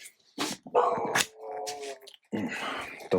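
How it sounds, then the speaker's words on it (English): A dog barks and yips several times nearby in a workshop where a guitar neck is being built, with sharp separate calls and short gaps between them. "Dog's having a shout."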